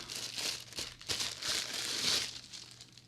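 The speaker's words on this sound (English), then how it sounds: "So let's go ahead and unwrap this guy." A TZ Stellar X3 condenser microphone is unwrapped from its packaging, with soft, close crinkling and crumpling in several short bursts over about three seconds.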